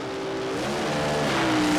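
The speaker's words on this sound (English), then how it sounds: "Cars bouncing as they bang the gears" A 1967 and a 1972 Chevrolet Nova launch off the line at Bristol Dragway in a classic gear-jammer drag race. Their engines roar loud and close, and the pitch climbs steadily as the cars pull hard.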